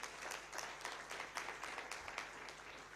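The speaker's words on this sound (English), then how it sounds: "A round of applause to them again." Faint, scattered clapping from an audience at a Ugandan talk show on ending child labour, praising a children's cultural performance; claps are uneven and distant, with no voices over them.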